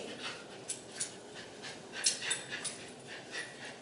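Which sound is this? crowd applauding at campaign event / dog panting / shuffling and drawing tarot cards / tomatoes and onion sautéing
dog panting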